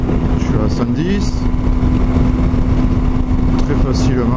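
A Honda Shadow 125 motorcycle cruising on a flat road at 110 km/h, a loud, constant engine drone mixed with heavy wind rush close to the rider, with a voice speaking over it.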